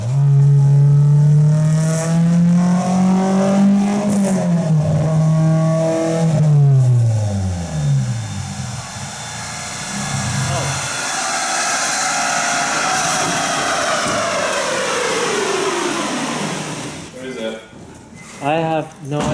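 A Honda S2000 engine on a dyno during a tune pull, revving loud and close: a strong climbing wail that sweeps up, drops, then rises again into a high, sustained scream before cutting off.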